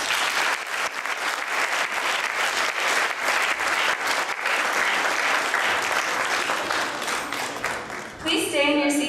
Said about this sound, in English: Let's give all four groups another big round of applause.